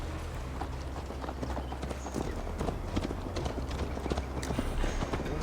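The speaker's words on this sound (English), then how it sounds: "Mount up, Eivor. It's a long ride to Tamworth." Horse hooves clip-clop steadily while riding in the video game Assassin's Creed Valhalla. The quick, even beats are fairly loud over a constant rumble and carry on throughout without pause.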